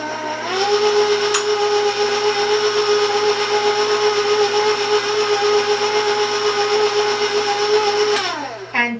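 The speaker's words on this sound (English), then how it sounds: "I raised the speed again to move it along, but just stay with it, mix it well" An electric mixer beating chocolate crinkle cookie batter at raised speed: a steady, loud motor whine that starts up, holds evenly for about eight seconds, then winds down and stops, with no talking.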